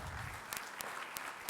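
An audience at a chartered accountants' annual conference in Dubai claps for someone being welcomed on stage. The brief, faint applause is distant and hall-filled, with a few sharper claps standing out.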